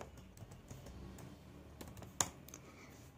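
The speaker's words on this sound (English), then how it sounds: "So you can type anything you want." Sparse, soft keystrokes on a computer keyboard, a few faint irregular clicks with one sharper tap, quiet and close with no voices.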